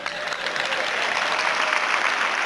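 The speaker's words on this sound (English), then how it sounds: "Hey, a little applause," An audience at a talk on NVIDIA and generative AI breaks into sustained applause, a dense even clatter of many hands that swells slightly and stays loud throughout.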